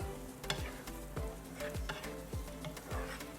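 Chopped red onion fries in a pan with a steady sizzle, while a utensil scrapes through it in regular strokes, roughly one every half second.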